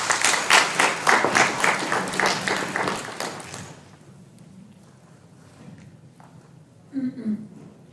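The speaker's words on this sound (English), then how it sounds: "A round of applause for Peter Jacob." An audience at a World Elder Abuse Day presentation gives a round of applause for speaker Peter Jacob, brisk clapping for about four seconds that quickly dies away into a quiet room with faint shuffling.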